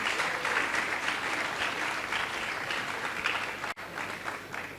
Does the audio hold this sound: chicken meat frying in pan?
no